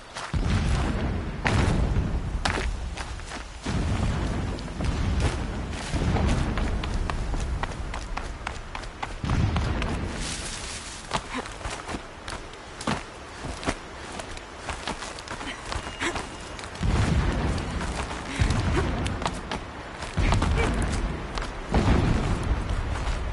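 Explosions sounding in the distance in Horizon Zero Dawn, repeated low booming thuds spread through a long, busy stretch of running footsteps and movement.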